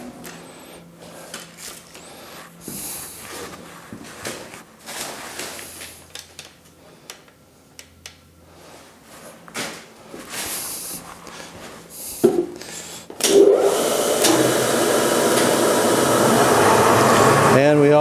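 A Deckel machine tool starts up with its built-in suction. After some quiet handling and clunks, a loud, steady broadband whoosh of the extraction kicks in and holds to the end. Speech is faint or absent.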